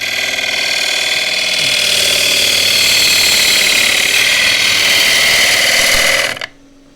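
A wood lathe turns a green board into roughed bowls and bowl blanks, giving a loud steady motor whir with a gouge cutting the spinning wood that stops abruptly near the end, with no voices.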